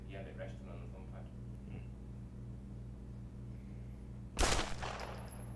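A single loud gunshot from a virtual reality shooting game on the HTC Vive, sudden against a low humming background with a faint voice earlier, followed by a short decaying tail.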